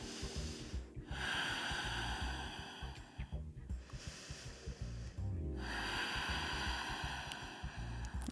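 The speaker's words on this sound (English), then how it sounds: "Inhale. Ujjayi, exhale." Ujjayi breathing during a yoga pose: loud, close, hissing breaths drawn through a constricted throat, with long inhales and exhales separated by short pauses, and no talking.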